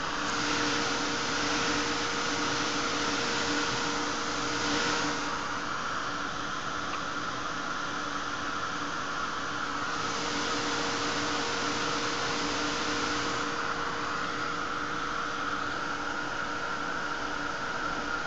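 A heat tool blows a steady, loud hiss of hot air for a long stretch while drying rust paste on an altered light bulb, with slight dips as it moves around.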